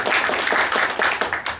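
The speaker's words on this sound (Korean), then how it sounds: "다시 한번 큰 박수 부탁드립니다." An audience at a Bucheon disability welfare policy forum applauds, rapid overlapping claps with a clear rhythmic pulse, continuous and moderately close.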